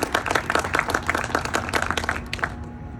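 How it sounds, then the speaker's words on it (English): Audience applause at a spec building open house in southwestern Kentucky, a steady burst of many hands clapping that fills the room and fades out near the end. "let's give John and Greg a big round of applause for their efforts as well"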